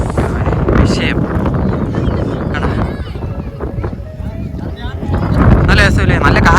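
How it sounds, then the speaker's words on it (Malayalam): Strong wind buffeting the microphone at the Dolphin's Nose viewpoint in misty Kodaikanal, a loud, continuous rumbling roar that swells toward the end, with a person talking throughout. "നല്ല കാറ്റുണ്ട് കേട്ടോ"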